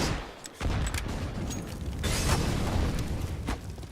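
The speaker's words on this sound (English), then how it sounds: "Ion gets away with 2 deagle shots like that." Desert Eagle pistol shots ring out in a competitive Counter-Strike match, a few sharp loud reports with echoing tails amid clattering in-game background noise.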